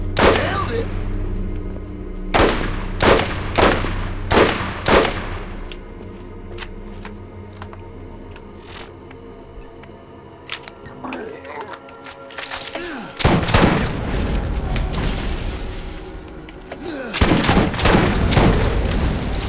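Rapid cracking shots from an exploding sniper rifle in a video game, firing in bursts of repeated loud reports with layered blasts and rumbling booms between them, busy and intense throughout.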